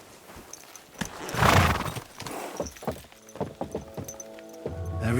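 Horse hooves clopping in an uneven rhythm, with a loud whinny near the start and a crashing thud, close and clear, from the video game Kingdom Come: Deliverance 2.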